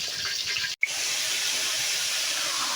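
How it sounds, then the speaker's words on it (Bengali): Salted fish pieces fry in hot oil in a wok, a steady close hiss and crackle running throughout, interrupted by one brief silent gap. "ভেজে নিচ্ছি"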